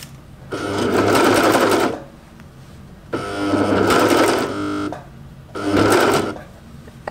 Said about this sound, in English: I can go with my sewing machine to do a few extra stitches there